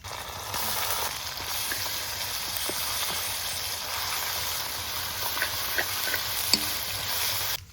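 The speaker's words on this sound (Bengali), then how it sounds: "বন্ধুরা পেঁয়াজটা সুন্দর করে ভাজে নিয়েছি, লাল লাল করে হালকা দিয়ে দেবো" Onions fry with garlic paste in a pan, a steady close sizzle with faint scraping stirs running throughout, no voices.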